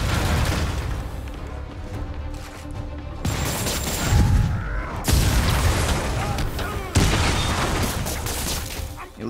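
Booming missile explosions and heavy gunfire fill a Spider-Man video game battle, loud and continuous with sharp bursts around the middle, dense rumbling blasts layered over a steady din of combat.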